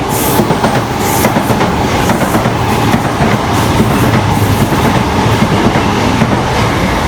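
A C2C Class 357 electric multiple unit runs non-stop through a station on the Great Eastern Main Line, its loud, steady roar and rhythmic clatter of wheels filling the platform close by throughout.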